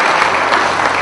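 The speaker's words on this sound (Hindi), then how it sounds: "आप अच्छी तालियों के साथ" Steady audience applause at a Hindi poetry recital (kavi sammelan), a dense, even wash of clapping filling the whole short moment with no break.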